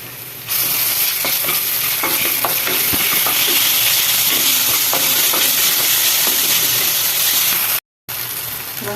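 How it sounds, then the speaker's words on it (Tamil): Onions frying in a pan for a radish kuzhambu make a loud, steady sizzle and hiss close up, with scraping stir strokes throughout and a brief gap of silence near the end. "வெங்காயம் வதங்கிட்டே இருக்குது"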